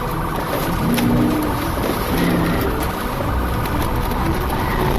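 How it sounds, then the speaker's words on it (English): A car engine roars loudly and continuously during a high-speed police chase past traffic, a dense sustained drone with faint siren-like tones mixed in. "The chase erupted, engines roaring as he sped past traffic at over 100 miles an hour"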